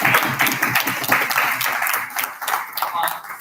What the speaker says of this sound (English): and we have a huge round of applause